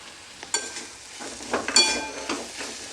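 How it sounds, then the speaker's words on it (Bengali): Fried potatoes tipped into a pan of sizzling cooked-down spices and stirred, with steady frying hiss and a few scraping stirs and clinks close by. "আমি এবার দিয়ে দিচ্ছি এর মধ্যে ভেজে রাখা আলু।"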